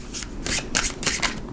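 Tarot cards are shuffled by hand in quick bursts, several close, crisp riffling rustles separated by brief pauses, with no talking.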